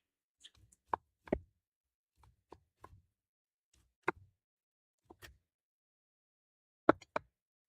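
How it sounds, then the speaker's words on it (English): A knife chops candy salad into small squares on a board, sparse sharp taps in irregular bursts separated by quiet pauses, no voices. "So just chopping this up into random little squares,"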